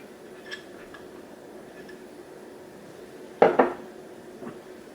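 Grated raw coconut goes into a bowl of parsley salad with sliced green chillies and salt, bringing a few quiet clinks of a utensil against the bowl and one sharper double knock midway through.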